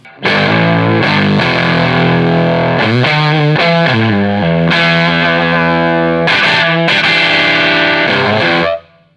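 Heavily fuzzed electric guitar through a hand-wired Fuzz Face clone pedal, playing sustained notes and slides, with a buzzy, saturated tone and a bright upper octave ringing above each note.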